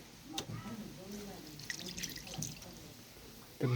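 Kodo millet rice is swished and rinsed in water, with soft irregular sloshing, splashes and drips close by at low level, ending in a louder clatter.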